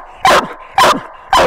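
Coonhound bitch barking at a raccoon she has treed beside a ditch edge while coon hunting, three loud, sharp barks spaced evenly about half a second apart, close by and alone.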